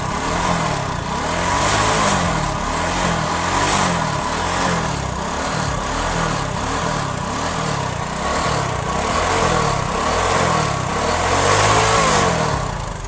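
A TVS XL 100 moped engine runs at full throttle with its wheel not turning, a steady, buzzing mid-pitched drone with rhythmic pulsing that holds loud and constant throughout.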